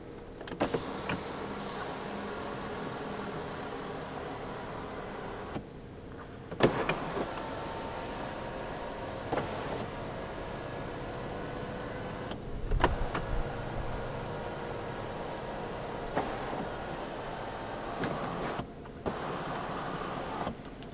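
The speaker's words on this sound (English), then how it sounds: "You can also open up the sunroof as a vent." An electric motor whirs steadily as the sunroof of a 2009 BMW 740Li opens, heard inside the cabin, with a few clicks and thumps along the way and no talking.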